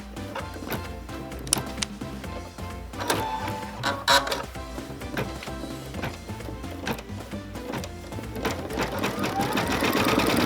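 An embroidery machine stitches a placement line on a kitchen towel in a fast, steady mechanical chatter of needle strikes. The sound is close and continuous, with occasional louder clacks, and no voices.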